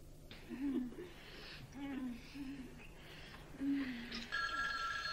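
A telephone rings in an Italian action film scene, a tonal electronic ring heard with breathy vocal sounds and background noise rather than standing alone.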